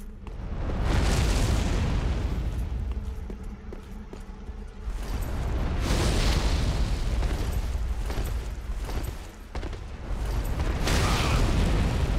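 Fireballs explode repeatedly in the Yhorm the Giant fight of Dark Souls 3, booming blasts in several loud waves separated by brief lulls, with heavy low rumble throughout.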